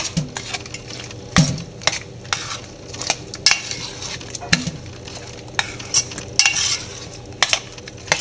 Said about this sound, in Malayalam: ഇനി നല്ലപോലെ കൂട്ടി യോജിപ്പിക്കുക.